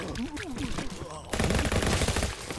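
Rapid automatic gunfire from an AK-47-style rifle in the VR zombie game Undead Development comes as a dense, loud burst of shots, with a voice talking just before it starts.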